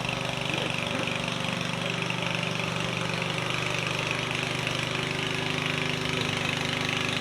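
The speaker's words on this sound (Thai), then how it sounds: "เสียงที่ท่านได้ยินได้ฟังอยู่ในขณะนี้คือเสียงเครื่องสูบน้ำ" A water pump engine runs steadily nearby at a temple, a low droning hum with a constant mechanical chug and no break.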